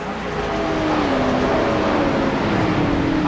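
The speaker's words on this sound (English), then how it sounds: "How do the cars sound right there, Uncle Kenny?" Race car engines in a racing video game drone steadily with a loud, continuous whine whose pitch sweeps and shifts as the cars run, with no voices over it.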